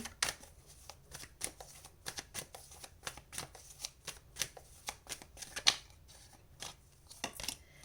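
A deck of tarot cards is shuffled by hand close up, producing quiet, rapid bursts of riffling and flicking in an irregular rhythm with no talking.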